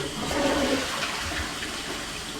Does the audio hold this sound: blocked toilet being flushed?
yes